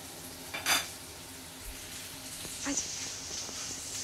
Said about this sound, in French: on va chauffer. Je vais mettre un petit peu de beurre